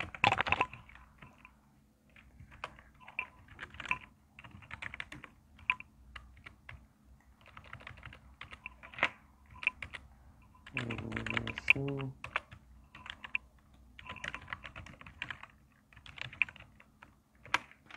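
Quick, uneven bursts of keystrokes clatter close up on a computer keyboard during a live online prayer broadcast, pausing briefly and resuming; a voice speaks for a moment partway through.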